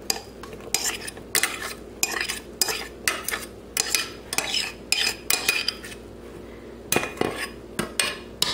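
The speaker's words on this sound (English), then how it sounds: "So I'm going to just dump that right there in on top of the batter." Rum-soaked pineapple dumped into a bowl of piña colada cupcake batter, heard as a run of sharp, close clinks and scrapes of a utensil against the bowl, irregular and fairly loud, with no talking.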